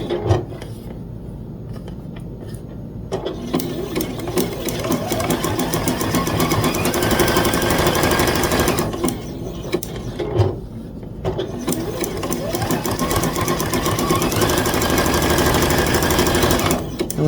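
A sewing machine stitches appliqué down the center of two pieces on a quilt's honeycomb border, running in fast, steady bursts with brief pauses between them, close and loud, with no talking.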